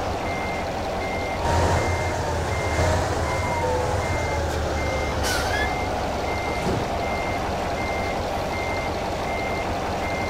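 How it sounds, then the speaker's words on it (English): Reversing beeps from a MAZ 504 truck in Euro Truck Simulator 2, a steady faint pulsing tone heard from inside the cab, soft under the low engine rumble with an air-brake hiss partway through. "there is a backup sound to it, but you can barely hear it inside."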